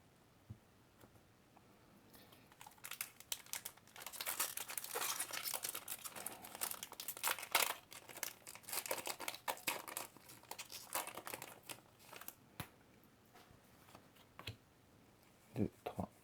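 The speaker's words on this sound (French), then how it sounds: "Si j'arrive à ouvrir cette sleeve." Crinkly plastic trading card sleeve being pried open, with dense bursts of crumpling and crackling in the middle stretch and a few sharper rustles near the end, close by.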